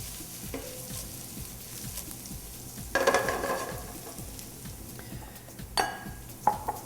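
Vegetables sauté in a pan, a steady close sizzle running throughout with occasional scraping stirs and clinks of a utensil against the pan.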